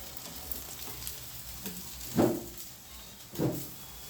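Capsicum bajji fry in hot oil with a steady soft sizzle. Two brief louder bursts of bubbling rise from it, as if from a stir or a fresh batch, and no one speaks.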